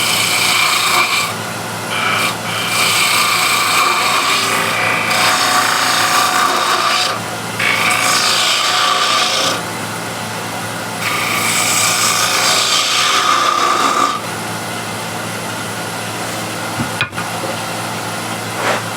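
A spindle gouge scrapes and cuts scrap wood spinning on a lathe, giving a loud, rough, continuous shaving noise that comes in bursts with short pauses between passes. Nobody speaks.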